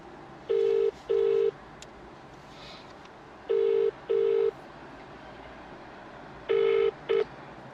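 Telephone keypad tones beep in three pairs of short, clear dial tones separated by pauses, sounding close over a low background hum.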